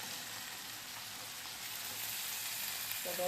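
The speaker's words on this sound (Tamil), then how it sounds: "நல்லா கிண்டி வைக்கணும்" Amaranth greens stir-fry sizzles in a pan with a steady, close hiss, and a brief stir or clink comes near the end.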